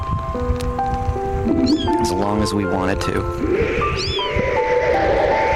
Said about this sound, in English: How old are these kittens, 2 days old.